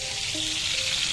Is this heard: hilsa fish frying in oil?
yes